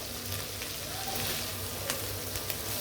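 Chopped onions fry in hot oil for a home-style chicken and potato curry, giving a steady, fairly faint sizzle with light crackles and a few soft pops throughout.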